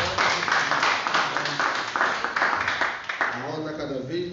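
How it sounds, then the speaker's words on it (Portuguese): A church congregation breaks into a dense wash of clapping during a Sunday school lesson, steady and fairly loud for several seconds, with voices rising over the applause toward the end. "Então vamos dar uma linda salva de palmas para Jesus na vida do presbítero Carlos."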